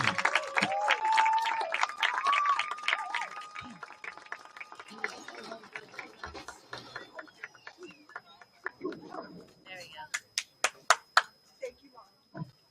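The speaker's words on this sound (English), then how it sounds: "one more round of applause for the Newark High School Yellow Jacket Marching Band" Crowd at a Newark versus Concord high school boys' varsity football game applauding the Newark High School Yellow Jacket Marching Band, clapping building under an announcer's voice and then ending in scattered distinct claps.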